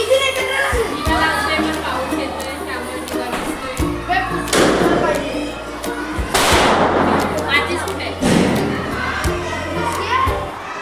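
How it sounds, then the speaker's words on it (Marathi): Diwali firecrackers bang outside in a few loud, sharp bursts near 4.5, 6.5 and 8.3 seconds, against a busy household background with people talking throughout. "हे बघा फटाके चालू आहेत."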